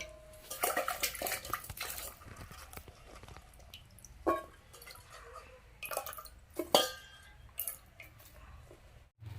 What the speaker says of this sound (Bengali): ফুলকপিগুলো কাটা হয়ে গেছে এবার ধুয়ে তুলে নেব